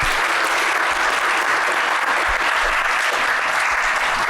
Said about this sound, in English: Please give our panel a huge round of applause.